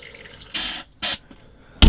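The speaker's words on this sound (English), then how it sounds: "Top that water bowl up." Water splashes from a small container into the water bowl of a spider enclosure, coming as three short pours separated by brief pauses, close and fairly loud, with no talking.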